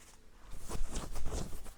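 A deck of tarot cards is shuffled close by in quick rhythmic bursts, a soft papery riffle with repeated slaps and flutters and no voices.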